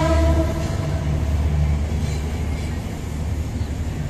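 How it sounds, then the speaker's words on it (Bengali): A train passes close by, its heavy rumble and rolling wheel noise steady throughout, with a faint horn-like tone at the very start. "এই যে রেলগাড়ি আসতেছে এখানটা।"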